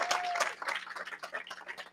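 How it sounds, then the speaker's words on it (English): An audience claps for Commissioner Bailey at a prisoner support event, a short stretch of scattered, moderately loud applause. "Commissioner Bailey, please give her a big, gigantic round of applause"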